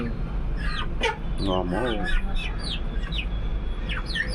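Chickens and roosters brought from Tamil Nadu give scattered short clucks and chirpy calls, including a brief harmonic crow-like call midway, heard close by under a low background rumble while a person talks.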